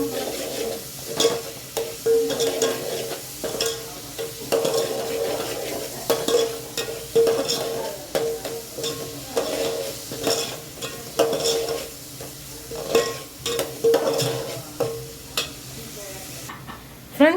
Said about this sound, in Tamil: நல்லா கடுகு, அப்புறம் வெங்காயம், பூண்டு, கருவேப்பிலை நல்லா வந்து ப்ரௌனாக வரட்டும்.